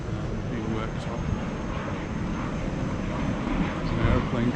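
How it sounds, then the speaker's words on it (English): A steady, rumbling aircraft engine drones through the whole stretch as an aeroplane comes in over Cala Gamba harbour, Majorca, broad and low, with faint voices and outdoor noise mixed underneath. "There's an aeroplane coming in."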